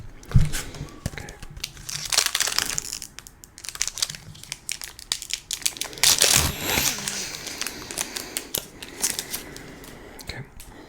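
Pokémon and Yu-Gi-Oh booster packs are torn open up close, with repeated sharp foil rips, crinkling wrappers and card shuffling in irregular bursts, and a voice talks softly in between.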